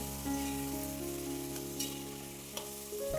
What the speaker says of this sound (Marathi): आता हा मसाला तेलामध्ये छान परतवून घ्यायचा